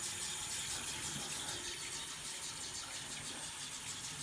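Tap water runs steadily into a sink while a motorcycle air filter for an American V-Twin is rinsed, a continuous hissing gush at close range with no talking.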